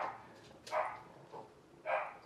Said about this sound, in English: Every time I do your reading, Pisces, my dog does that.